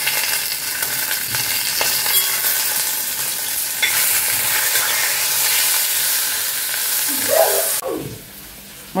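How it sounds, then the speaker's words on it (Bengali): Fish fries in a steel wok with a loud, continuous sizzle and crackle, broken by occasional scraping stirs, until the hiss drops away sharply near the end. "মাছটা ভাজা হোক"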